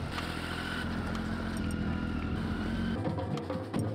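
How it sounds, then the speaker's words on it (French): A motorcycle rides off, its engine droning loud and steady throughout before easing slightly near the end, with background clatter. "Nico repart en moto"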